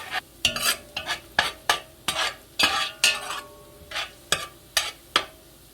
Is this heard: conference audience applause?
no